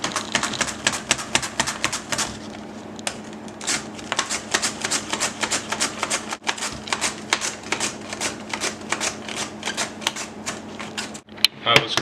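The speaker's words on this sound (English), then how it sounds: "The mandolin, I suggest you use it. It goes fairly quick that way." Vegetables are run quickly across a mandolin slicer, giving a rapid, steady series of crisp slicing clicks close by, with a person talking in the background.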